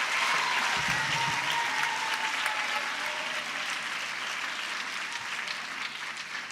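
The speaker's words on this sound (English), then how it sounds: "let's clap some more for her" Sustained audience applause following a keynote address at a girl child summit, a thick, even wash of many clapping hands that holds steady and tapers only slightly toward the end.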